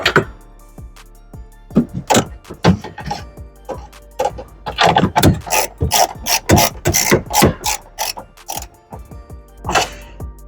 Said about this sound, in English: make sure not to over tighten these, since the studs on these are pretty small